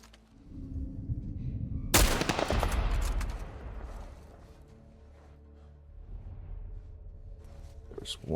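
Gunfire in The Last of Us, with a sharp, loud blast followed by a dense burst of shots. The sound then drops to a quieter, rumbling stretch with scattered noises and ends on another sharp hit.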